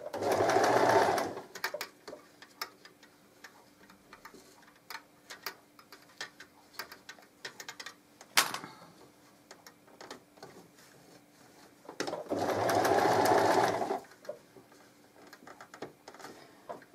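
A sewing machine stitches a zip into a fabric pouch in two loud, steady whirring bursts, one at the start and one near the end, with quieter rustling and handling of the fabric between them.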